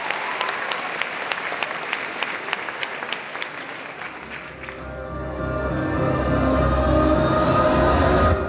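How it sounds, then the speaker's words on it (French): An audience at a cosplay event applauds a contestant with steady crowd clapping for about four seconds, which then fades as a loud, sustained deep musical swell with low rumble takes over. "Applaudissez-la bien fort, s'il vous plaît"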